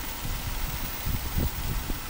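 An old car engine runs steadily after repair, a low rumbling idle with faint uneven pulses, close by and fairly quiet, with no talking.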